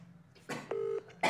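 A phone dials out a call: a brief steady keypad tone, flanked by short clicks, all within about a second and fairly close.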